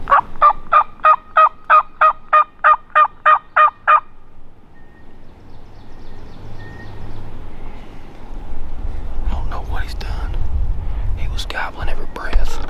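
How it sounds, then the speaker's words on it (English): A wild turkey in the mountains: a fast run of about eleven clear, evenly spaced call notes opens, then rougher gobbling comes later over rumbling wind, with quiet whispered talk nearby. "Gobbling every breath for a long time"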